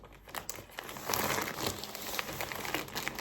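Plastic packaging from an online order being torn open by hand, a continuous close crinkling and crackling that grows louder and denser midway.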